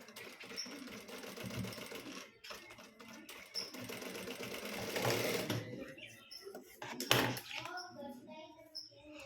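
A sewing machine fitted with a double foot stitches potli buttons onto fabric, giving quiet, close bursts of rapid mechanical chatter that start and stop several times.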